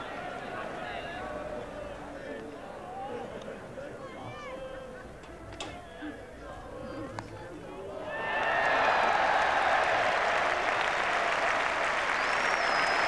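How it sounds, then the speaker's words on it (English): Crowd at a 1981 England Ashes cricket match breaking into loud, sustained applause after a stretch of murmur and a few isolated claps, heard over a commentator talking. "the crowd is now animated"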